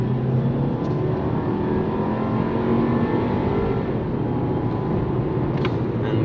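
A Volkswagen Passat accelerates hard to 60 with a steady, sustained engine drone and road rumble heard from inside the cabin, rising gradually with no talking.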